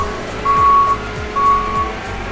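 Forklift reversing alarm sounding in a parking area: a steady high electronic beep repeats in on-off pulses over a low idling engine rumble, fairly close and loud.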